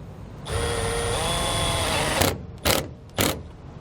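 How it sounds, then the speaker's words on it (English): A 1/4 inch socket on a power driver runs a fastener into the beam of a Solera XL 12V power RV awning, a close whirring drive of about two seconds followed by two short bursts. "We're going to use a 1/4 inch socket to run that down."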